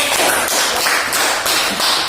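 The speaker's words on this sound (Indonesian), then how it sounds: "kita tepuk tangan dulu untuk kelompok yang" A class clapping for a group of students in an Indonesian primary school lesson, many hands applauding at once in a loud, dense, continuous burst with a slightly uneven rhythm.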